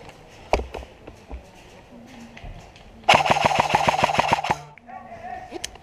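Airsoft guns fire a rapid suppressing burst from opposing players in a village battle, a loud run of about a dozen sharp cracks lasting over a second, preceded by scattered single shots and movement, with faint voices around.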